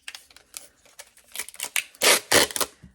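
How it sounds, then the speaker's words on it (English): Packing tape is pulled off the roll and pressed over a box, giving sharp ripping bursts, the two loudest and longest near the end, amid smaller crinkles and taps, close and without talk. "You just cover the whole thing in packing tape."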